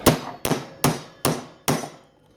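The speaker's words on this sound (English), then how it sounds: "Take my hammer here and I just give it a couple of pretty good whacks without hitting myself." Five sharp, evenly spaced hammer whacks on a speaker casing, each a loud close crack with a brief decaying ring, about every 0.4 seconds, no talking.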